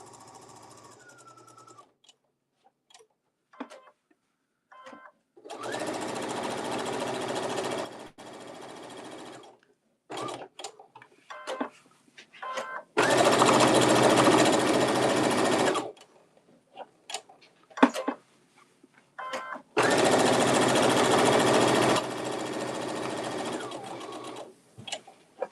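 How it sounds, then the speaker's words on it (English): A sewing machine top stitching around a fabric craft piece runs in three long steady bursts of fast mechanical whirring, separated by quieter pauses with handling clicks and rustles. "I'm going to start on that side and do a top stitch all the way around."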